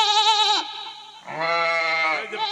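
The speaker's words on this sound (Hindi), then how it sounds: "थाने के अंदर बकरी भेड़ पाल के रखता है" Goats and sheep bleat loudly inside a police station: two long, wavering calls, close and clear, with a short quieter gap between them and no talking.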